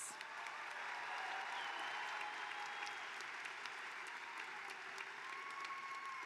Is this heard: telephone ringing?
no